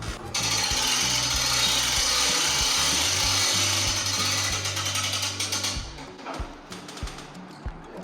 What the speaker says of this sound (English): you continue to wind it up until you find the hole for the locking pin